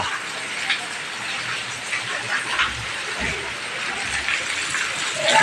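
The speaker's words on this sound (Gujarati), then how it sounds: "હવે જ્યાં વરસાદ આવી ગયો" Steady broadband hiss of rain falling throughout, with a faint voice or two briefly audible beneath it.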